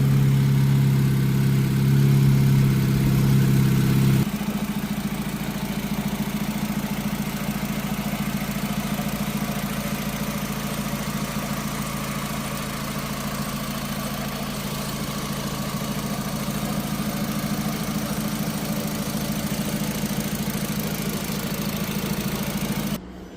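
A 2008 Honda Civic FD with a 1.8 engine idles steadily at close range, a continuous low hum that is louder for the first few seconds and then settles to an even drone.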